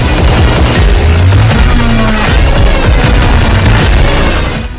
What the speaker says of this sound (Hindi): बड़े धमाके होते हैं और फिर इजराइल के हेलीकॉप्टर मंडराने लगते हैं